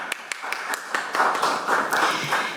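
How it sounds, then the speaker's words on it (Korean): An audience at a Korean healthcare policy forum gives a short burst of scattered hand clapping that thickens briefly into light applause before a panel discussion begins. "여러분 다시 한번 큰 박수 부탁드리겠습니다"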